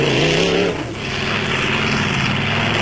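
A Castrol Toyota Hilux off-road race truck in a 1995 South African off-road race drives hard, its engine a loud, steady roar that dips briefly and then surges again, close up, with no speech.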